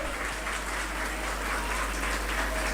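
Audience applause at a school annual result function as a guest takes his seat: a steady, hissy wash of clapping heard from a distance, with a low constant hum running underneath.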